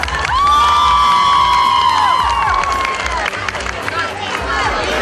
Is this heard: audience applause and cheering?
yes